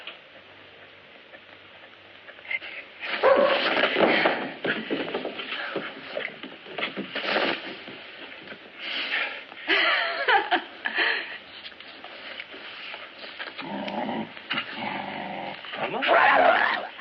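A young puppy whimpers and growls in bursts, close and fairly loud, with quieter gaps between the outbursts and some laughter-like sounds mixed in.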